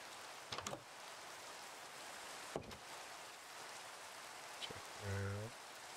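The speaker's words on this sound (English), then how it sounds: "Looks like it's raining during the day." Steady rain in the video game Minecraft, falling during the daytime in hardcore mode, with a constant hiss of drops throughout, a few sharp knocks and a short low buzzing tone near the end.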